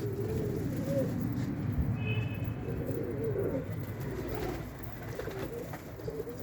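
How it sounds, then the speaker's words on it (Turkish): Pigeons coo softly in repeated low, rolling phrases against a quiet outdoor background on a cold Istanbul evening. "Değişik enteresan bir kuş yani güzel uçuyor."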